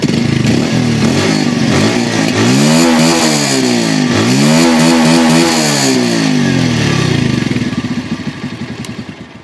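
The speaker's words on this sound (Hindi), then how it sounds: "idling exhaust sound" A Bajaj Pulsar 150 BS6 motorcycle's exhaust is heard up close: the engine revs in a couple of rising and falling throttle blips over a steady idle, then settles and fades near the end.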